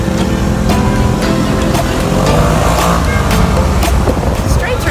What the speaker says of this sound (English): Straight through traffic.